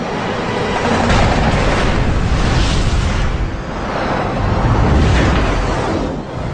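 Heavy .50 caliber rounds strike a MiG fighter jet, heard as a loud, continuous roaring rumble of impacts and explosion with broad noise swelling and easing over several seconds.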